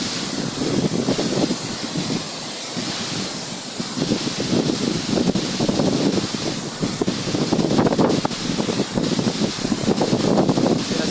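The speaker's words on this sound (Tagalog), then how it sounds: "Sobrang lakas ng hangin." Strong wind at a pool near Pangil, Laguna, buffets the microphone in rough, surging gusts, a continuous loud roar with no voices.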